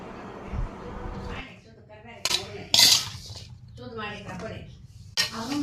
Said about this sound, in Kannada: ಕಲಿಸಿದಂಥ ಎಲ್ಲ ಉಪ್ಪಿನಕಾಯಿನ ಈ ಜರಡಿ ಒಳಗೆ ಹಾಕೋತಾ ಇದ್ದೀನಿ.